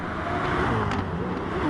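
A BMW M3 race car on the Green Hell circuit sweeps past with a steady, loud engine drone and tire whir, close by and briefly swelling.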